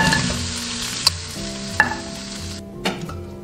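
Pig trotters stir-fried with dark soy sauce and oyster sauce hiss steadily in the wok, broken by three sharp spatula scrapes and knocks against the pan.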